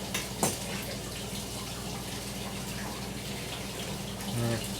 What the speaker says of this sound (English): Had some dirty dishes, that's why you're hearing the water in the background